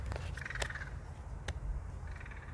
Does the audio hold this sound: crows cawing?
yes